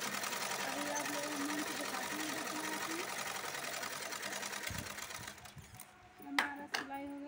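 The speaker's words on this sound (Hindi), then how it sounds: "इसमें काज की पट्टी इस तरह से सिलाई करेंगे।" A sewing machine stitches a buttonhole strip onto cloth with a fast, steady needle chatter that runs for about five seconds, then stops with a few clicks while a person talks quietly.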